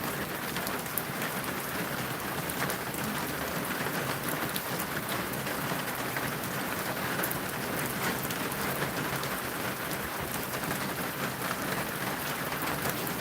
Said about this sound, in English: I'm just gonna listen to the rain.